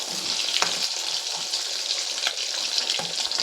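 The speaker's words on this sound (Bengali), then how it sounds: "একইভাবে এগুলোকে তেলে দিয়ে ভেজে নেব।" Potato and egg samosa rolls deep frying in hot oil, a dense continuous bubbling sizzle close up with a few sharp clinks, no talking.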